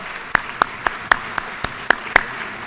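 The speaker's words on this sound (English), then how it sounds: "I'd love for you to join me in giving them a big welcome and a good round of applause." Applause from a small group in a legislative chamber during a session day, with a handful of distinct, evenly spaced claps standing out over a soft wash of lighter clapping, brief and close.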